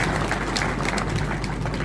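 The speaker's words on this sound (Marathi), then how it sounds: "एकदा जोरदार टाळ्या वाजवा" A crowd at a public groundbreaking ceremony for a Jat panchayat samiti building in Sangli district claps steadily and loudly, a dense wash of applause filling the whole stretch without letting up.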